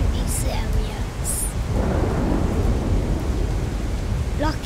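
A steady, loud downpour hisses throughout while thunder rumbles low underneath, and a few faint, brief higher sounds cut through the rain.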